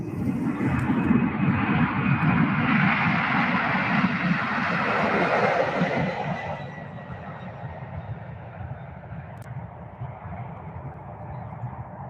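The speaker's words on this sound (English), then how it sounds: "UPS 757 going to Lubbock, Texas" A UPS Boeing 757 cargo jet roars past at UPS Worldport in Louisville, a loud broad engine rumble and whine that fades gradually into a lower distant drone.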